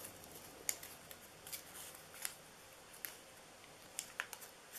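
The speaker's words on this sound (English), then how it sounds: "I'm going to cut this a little bit shorter here." Scissors snip paper for a handmade Christmas fry box in a few sparse, light cuts, close but quiet against a soft room background, with no talking.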